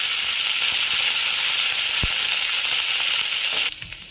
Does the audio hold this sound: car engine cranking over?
no